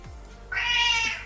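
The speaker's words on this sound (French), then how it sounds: "Ah bah c'est un chat qui cause." A single drawn-out cat meow, close and fairly loud, rising at the start and holding steady for about half a second before trailing off over a quiet room background.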